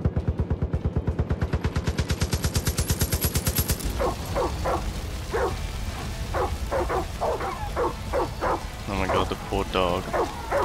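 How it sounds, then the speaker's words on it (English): In the video game Far Cry 5, a dog barks in short bursts amid gunfire, first heard under a rapid rattling machine-gun-like stream of shots, then as repeated sharp barks over background rumble. "Dog's like freaking out."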